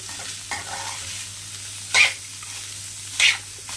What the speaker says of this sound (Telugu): ఇది చూడండి ఫ్రెండ్స్ ఎలా వేగుతుంది